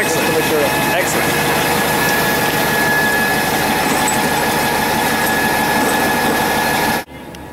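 A road milling machine strips asphalt off a concrete street, its big engine droning loud and steady with rumbling vibration and grinding throughout, cutting off abruptly near the end; a voice talks under the machine noise.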